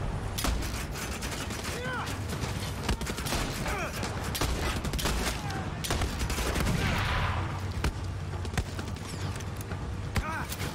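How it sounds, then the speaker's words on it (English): Dense, continuous automatic gunfire in the open-world shooter Far Cry 6, a steady rattling barrage of rapid shots with sharp individual cracks and a brief swelling burst midway, all at sustained high volume. "Please stop shooting."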